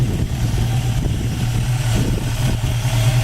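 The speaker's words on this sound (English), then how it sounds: "Engine runs super smooth. It's got a 4-barrel and Edelbrock intake on it." 1967 Ford Mustang convertible engine with a 4-barrel carburetor and Edelbrock intake runs smoothly at idle, a steady, close, loud low rumble with slight pulsing throughout.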